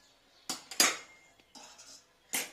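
A metal pot for ginne rotti is set on the stove, giving a few sharp clanks and clinks of cookware spaced over a couple of seconds in a quiet kitchen.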